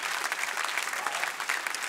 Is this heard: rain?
no